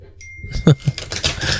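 Tarot cards shuffled by hand during a live reading, making a soft run of rustling, clicking card sounds that grow busier after a quiet start.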